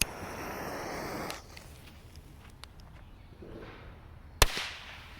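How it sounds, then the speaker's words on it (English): A tattered, damaged firecracker goes off outdoors after a quiet fuse hiss, one sharp, loud bang cracking out near the end followed by a brief decaying echo. "That firecracker had no problem blowing up"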